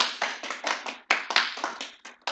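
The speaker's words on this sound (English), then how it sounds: "do you guys want to do a round of applause?" Children in a classroom clap a round of applause, a close, quick series of sharp hand claps in uneven bursts with brief gaps, fairly quiet and with no talking over it.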